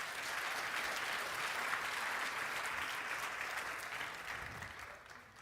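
An audience at a live convention gives a speaker a sustained round of applause, a dense wash of many hands clapping steadily for several seconds at moderate distance before it begins to thin out.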